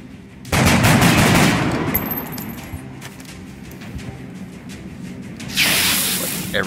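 Rapid bursts of gunfire as a squad shoots an enemy in the XCOM Long War video game: a dense loud volley at the start, a quieter rattling stretch, then another sharp burst near the end.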